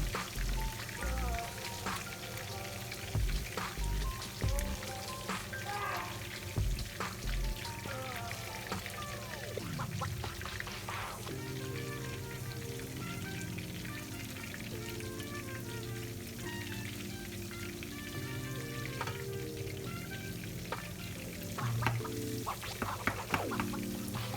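Turmeric-marinated fish deep-frying in hot oil gives a steady, dense sizzle and crackle for the whole stretch, with occasional clinks and knocks on top.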